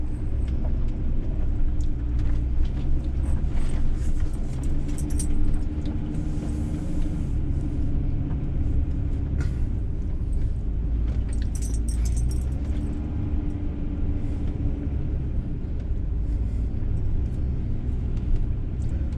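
Car driving slowly around a lakeside loop campground at a Georgia state park, with steady engine and road rumble and occasional rattles, close and continuous, no talk.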